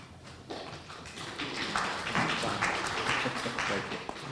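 Scattered audience applause at a candidates forum, building gradually from a few claps into moderate, steady clapping heard from within the room.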